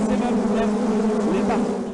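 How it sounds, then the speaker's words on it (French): A honeybee colony guarding stored honey at the hives, making a dense, steady, loud buzzing drone close up with no breaks. "D'où un accueil chaleureux nous réservé par cette colonie d'abeilles à la garde de la provision."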